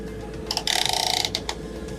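A fiber jetting machine has its belts adjusted, producing a short burst of rapid mechanical ratcheting clicks over a low background hum, close and brief, with no voices.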